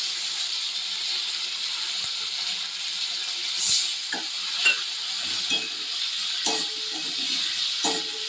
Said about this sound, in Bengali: এবার একটু কষাতে থাকবো